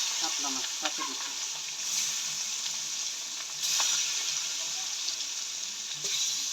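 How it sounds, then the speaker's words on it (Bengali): Katla fish frying in hot oil for a Bengali paturi dish, giving a steady, close, even hiss of sizzling with a few faint clinks and stirring scrapes. "এবার মাছটা ভাইজা নিব"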